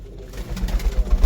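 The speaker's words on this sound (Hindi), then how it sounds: "कोट में कबूतर हैं ये" Pigeons cooing in a loft in Mohalla Kot, Sambhal: soft, low, repeated throaty coos pulsing close by over a muffled background.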